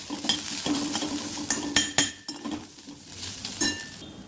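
Ginger garlic paste sautés in a pan with a soft sizzle. A utensil stirs it, making repeated scraping strokes and sharp metal clinks close by.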